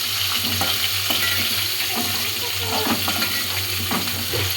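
Eggplant pieces fry in oil while being stirred gently, giving a steady close sizzle with soft scraping and stirring sounds throughout and no talk.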